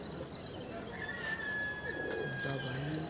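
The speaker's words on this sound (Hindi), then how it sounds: "कबूतर है।" Pigeon cooing softly at a distance amid outdoor ambience, a few low throaty calls with a faint chirp over steady background noise.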